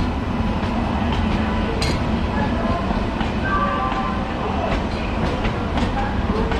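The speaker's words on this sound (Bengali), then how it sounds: "বন্ধুরা, এটা হচ্ছে শিয়ালদা রাজধানী এক্সপ্রেস।" Sealdah Rajdhani Express rolling past near Dum Dum Cantonment, a continuous heavy rumble with rhythmic wheel clatter and occasional metallic squeals, voices faintly mixed in.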